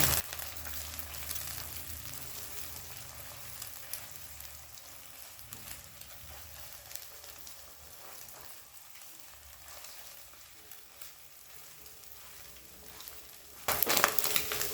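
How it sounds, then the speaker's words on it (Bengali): An egg frying in mustard oil in a wok on a high gas flame, a steady crackling sizzle running continuously, briefly louder near the end. "গ্যাসটাকে এবার হাই ফ্লেমে রেখে 2 থেকে 3 মিনিট ডিমটা ভেজে নেব।"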